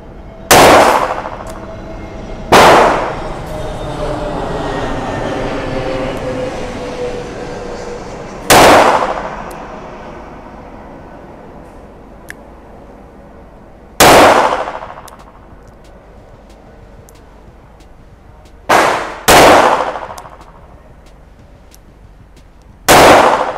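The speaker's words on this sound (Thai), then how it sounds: "ผมจะยิงแบบดับเบิลแอคชั่นนะครับไปที่กึ่งกลางนะครับของตัวเป้า" Discontinued Smith & Wesson Model 51 .22 Magnum revolver fired double action at a target: about seven sharp, loud shots at irregular intervals, each with a ringing decay and quiet gaps between.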